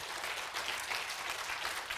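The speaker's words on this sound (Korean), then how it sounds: "박수 한번 해주십시오." A church congregation at a Sunday worship service claps together in steady, dense applause that holds at an even level for about two seconds, with no talking over it.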